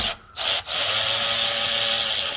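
A power driver spins out the T30 star-bit Torx screw holding the rear brake rotor on a 2014 Cadillac CTS, giving a steady close whirring drone after a couple of brief stop-start bursts.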